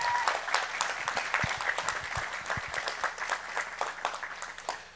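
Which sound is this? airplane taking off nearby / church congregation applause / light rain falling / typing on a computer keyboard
church congregation applause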